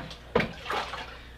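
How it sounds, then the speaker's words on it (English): Water poured into a blender holding a handful of paper pulp material for papermaking, a short splashing burst followed by softer sloshing that fades, close and fairly quiet. "handful of material into the blender, and then add water"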